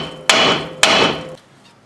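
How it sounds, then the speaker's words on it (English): A steel hammer strikes a truck's steering knuckle twice during lower ball joint work on a Dakota, each blow a sharp, loud metallic clang with a short ringing decay, about half a second apart, then quiet. "we'll take a steel hammer here and hit it really hard on this knuckle here"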